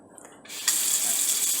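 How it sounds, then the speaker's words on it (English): A tap is turned on after a brief quiet moment and runs a steady stream of water into a teriyaki marinade of soy sauce, garlic and brown sugar. The flow is close and fairly soft. "I like to add a hint of water to my marinade"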